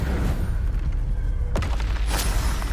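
In Hogwarts Legacy, a Confringo blast spell lands as a deep booming impact with a sharp crack, rising over steady game rumble, followed by a brighter fiery burst.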